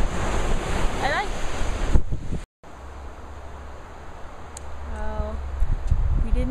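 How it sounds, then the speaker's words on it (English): Strong wind buffets the microphone in a steady roar, with a brief cutout partway through and a faint voice-like sound near the end. "it's really, really, really windy"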